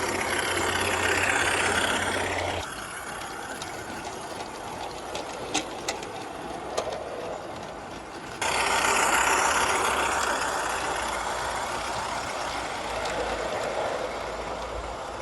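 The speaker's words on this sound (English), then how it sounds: "It's the harsh sound of a diesel engine." Harsh, continuous drone of a model diesel railway engine, loud and close, dipping in level for a few seconds mid-way before returning strongly, with no voices over it.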